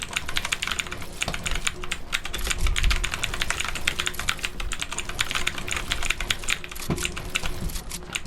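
Rapid, close keystrokes clatter on a computer keyboard used with a mouse for Fortnite on PlayStation, a dense, uneven patter of clicks lasting several seconds with no talking.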